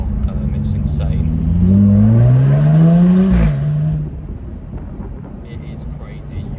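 The supercharged 3.0 V6 of a 2018 Jaguar F-Type R-Dynamic P380 AWD convertible revs up through its exhaust, rising in pitch to a loud peak before falling back to a steady idle rumble.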